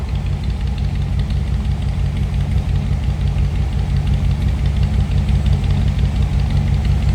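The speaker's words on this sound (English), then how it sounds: "Like I said, little rumble coming out of that 292." A deep, steady V8 engine rumble from a 1955 Ford Thunderbird's 292 idles continuously, low and throaty with a slight uneven pulse, close by and with no voices.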